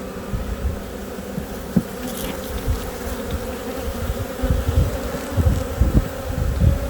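Honey bees hum steadily around frames in an open hive, a dense continuous drone with close passes swelling and fading as individual bees fly near.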